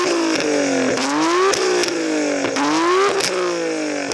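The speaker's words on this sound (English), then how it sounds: "I'm going to rev up this beautiful R32" A Nissan GT-R R32 fitted with an aftermarket titanium exhaust revs repeatedly, its engine note climbing and dropping in several loud, close blips with a raspy, crackling edge.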